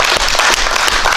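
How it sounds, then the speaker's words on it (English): A church congregation claps hard and continuously, a loud, dense burst of many hands close by with no talking. "Can everybody give a hand clap for God's mercy and grace"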